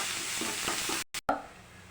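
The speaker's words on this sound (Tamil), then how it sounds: "கடுகு போட்டுக்கலாம். காஞ்ச மிளகா போட்டுக்கலாம்." Mustard seeds and dried chili crackle and sizzle in hot oil, a close, steady frying hiss broken by a couple of abrupt cuts near the middle before resuming.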